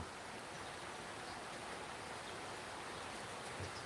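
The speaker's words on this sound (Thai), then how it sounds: "อ่ะตอนนี้ฝนตกอยู่ให้ดูห่างๆไปก่อน" Steady rain falls over a Thai temple garden, a continuous even hiss with no voices, moderately faint and unbroken throughout.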